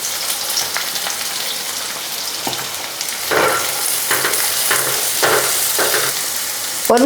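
Chopped onions fry in hot oil with mustard seeds, giving a steady, close sizzle with bursts of crackling as they are stirred, and no one speaks.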